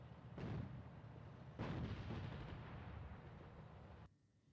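Battle sounds from a World War II video game set in the North African desert: two heavy, booming blasts that roll into a sustained low rumble of gunfire before cutting off abruptly.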